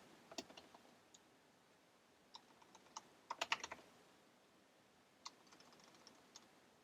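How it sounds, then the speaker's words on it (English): A computer keyboard being typed on to enter a player name, quiet scattered keystrokes in short bursts with a clustered flurry in the middle, close but faint against low background hiss. "So I type LeBron James here."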